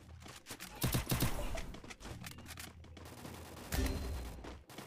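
Gunfire in the battle royale video game Free Fire, bursts of rapid shots with several louder volleys amid continuous game noise and crackling effects.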